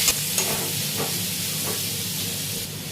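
Pumpkin pieces with salt and turmeric are turned in a hot pan, a close, continuous sizzling hiss with a few soft scrapes from the stirring utensil and no talking.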